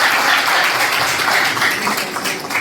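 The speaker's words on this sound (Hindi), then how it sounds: "एक बार जोरदार तालियां हो जाए।" A university drama and theatre audience gives thunderous applause, a dense continuous wash of clapping throughout the short stretch.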